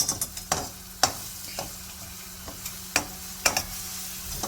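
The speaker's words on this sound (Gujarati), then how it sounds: "બધી બાજુ ચારે બાજુ હલાવવાની." Red garlic chutney with Kashmiri chili powder, coriander-cumin powder and salt is stirred in a sizzling pan. Sharp spoon scrapes come at an irregular beat of about one per second over a steady low frying hiss, with no talk.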